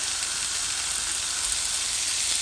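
Tomatoes sautéing in a pan for a fried sardine curry give off a steady, close, broadband sizzle with a hissing top end and no talking.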